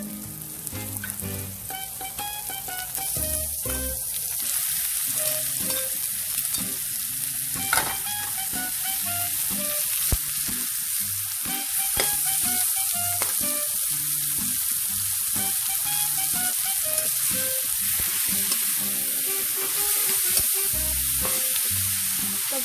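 Half a kilo of ground pork fries in a pan with a steady, dense sizzle throughout, broken by occasional soft scrapes and taps of a stirring utensil.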